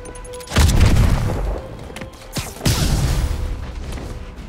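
Explosions in a Spider-Man video game, two heavy booming blasts about two seconds apart, loud and close, each followed by rumbling debris.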